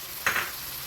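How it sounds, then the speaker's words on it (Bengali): Spice paste with ginger paste frying in a pan after water is added, a brief hissing sizzle bursting up and fading within a second. "এবার এই মশলাটাকে একটু বেশ কিছুক্ষণ কষতে হবে এই মশলাটা এই আদা বাটাটার সাথে"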